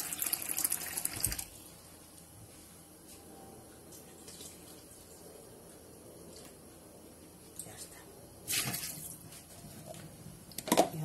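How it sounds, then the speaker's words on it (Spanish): Water runs from a tap into a Spanish cocido pot holding chorizos, a soft steady trickle with brief louder splashes near the start and end, close by. "Y voy a echar otro poquito de agua en los chorizos."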